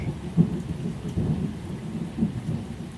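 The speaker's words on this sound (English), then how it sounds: "now leaving only the softest rainfall, like a curtain of mist brushing against leaves" Soft rain falls in a forest after a thunderstorm, a low, steady hush with gentle swells and faint distant rumbling, calm and continuous with no voices.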